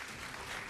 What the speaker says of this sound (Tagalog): Palakpak kung gusto nyo.